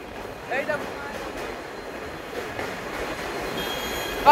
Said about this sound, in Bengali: দেখুন ট্রেন যাচ্ছে, বালি থেকে দক্ষিণেশ্বরের উদ্দেশ্যে ট্রেন রওনা দিয়েছে